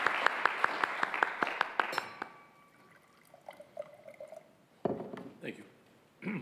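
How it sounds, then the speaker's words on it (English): Applause welcoming the OECD Secretary General at a G20/OECD corporate governance seminar in Fukuoka, brisk clapping for about two seconds that dies away into room noise, then a voice begins speaking. "Let's welcome him with a big round of applause."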